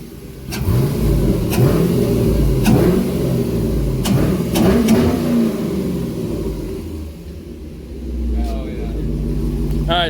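A Camaro SS V8 with high-flow cats and an intake idles with a deep rumble and is revved sharply several times, each burst rising then dropping; close and loud, with voices in the background.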